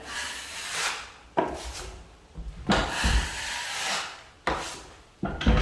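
A taping knife scrapes and smooths drywall joint compound across the edges of a plasterboard ceiling patch, giving repeated broad rasping strokes in a steady back-and-forth rhythm, close and fairly loud, with no talking.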